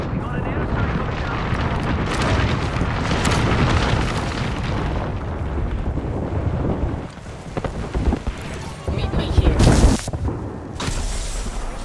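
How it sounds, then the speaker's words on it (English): Airstrike explosions in Rainbow Six Siege, a dense run of booming blasts and rumbling impacts lasting several seconds, followed by sharper bursts, loud and continuous, with voices talking over it. "Yo, we got an airstrike coming down."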